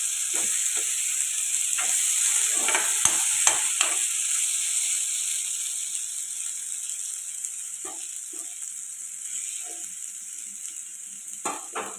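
Carrot and potato pieces frying in a pan for a lunch-box dish, a steady bright sizzle throughout with scattered scraping stir strokes and light clatters, near and clear, no voices.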